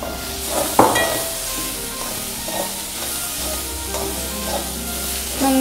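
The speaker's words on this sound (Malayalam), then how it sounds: "പിന്നെ അടുത്ത ചിക്കൻ, ചിക്കൻ ആഡ് ചെയ്യാം." Chicken mixed with salt, turmeric and black pepper sizzles steadily in a hot pan, with a sharp clatter as it goes in and then occasional stirring scrapes over the continuous frying hiss, and no talking.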